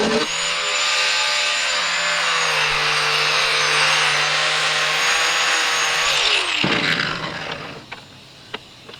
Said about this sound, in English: Get all the paint ground off so get a good weld.